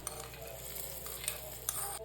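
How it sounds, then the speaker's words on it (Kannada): A hot tempering of mustard seeds and curry leaves stirred into bilimbi chutney, giving soft sizzling and stirring with light scrapes and clinks of a spoon against the pan. "ಇವಾಗ ಇದನ್ನು ಚಟ್ನಿಗೆ ಸೇರಿಸ್ಕೊಳ್ಳೋಣ."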